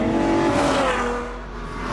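A Ferrari 812 Superfast V12 accelerating hard, its loud, close engine note climbing smoothly in pitch as revs build, then easing slightly before rising again.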